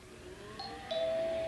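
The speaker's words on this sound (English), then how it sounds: "Oh, it's the doorbell." A doorbell rings in an indoor sitcom-style scene, its two bright ding-dong tones sounding clearly one after the other with no talk over them.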